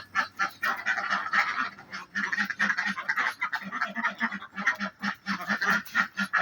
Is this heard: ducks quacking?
yes